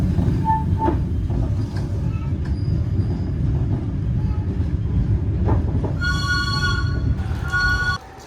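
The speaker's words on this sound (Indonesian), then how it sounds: "Kereta api Montis Utara berhenti di stasiun Gubuk." Passenger train of the Mutiara Utara service pulling into Gubuk station on track 1, heard from onboard: a steady low rumble of the moving carriages with squealing wheel tones toward the end as it comes to a stop.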